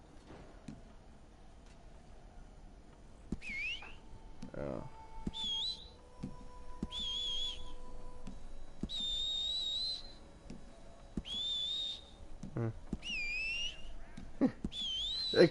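A game character in Red Dead Redemption 2 whistles to call a horse: several sharp, rising two-tone whistles repeat over a quiet outdoor game ambience with faint ticks, and someone briefly murmurs.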